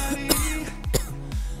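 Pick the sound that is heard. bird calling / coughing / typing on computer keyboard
coughing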